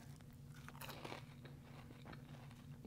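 Crispy, flaky, buttery parmesan cheese twists being bitten and chewed up close, giving several quiet crunches and crackles over a faint low hum.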